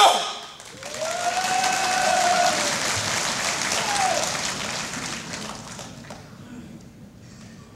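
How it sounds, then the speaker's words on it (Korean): A crowd applauds at a 2012 political rally speech in Gwangju: a modest, fairly subdued wash of clapping that swells and then fades, with a voice heard over it. "박수 소리가 좀 작아서"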